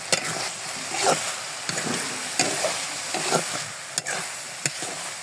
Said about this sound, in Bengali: এখন আমি একটু নেড়ে চেড়ে ঢাকা দিয়ে ঢেকে।